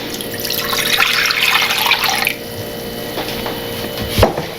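A cup of water pours steadily into a bowl while a black pepper steak stir fry is being made, a loud splashing stream for about two seconds, then a quieter trickle and a few light clinks.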